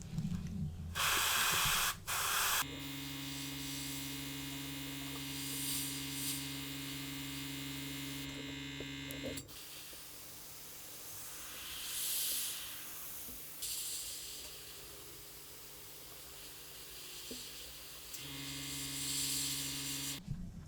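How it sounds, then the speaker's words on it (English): An airbrush sprays dark earth paint in an irregular mottle over a 1/32 Kotare Spitfire Mk1a model, giving a steady close hiss over a constant hum, with brief pauses and shifts in the flow. "I'm just letting the airbrush move around the surface"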